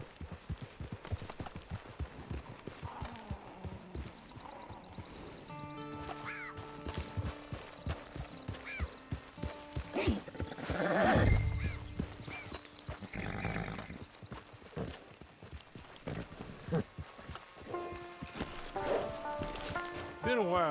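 Horse in the Red Dead Online video game, with hoof clip-clops and brief horse sounds under ongoing talk and game background noise.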